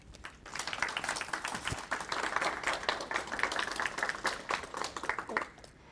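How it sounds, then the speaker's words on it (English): A small crowd at a student literary magazine event claps steadily for several seconds, a dense patter of hands that stays even and then fades slightly at the end. "A round of applause for Brendan, who unfortunately cannot attend"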